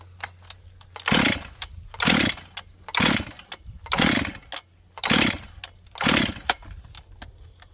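An auction-bought chainsaw is pull-started over and over, and each of six rhythmic cord pulls gives a loud, brief rasping burst. The engine never catches, and quiet gaps fall between the pulls.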